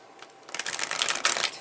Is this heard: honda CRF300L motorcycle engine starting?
no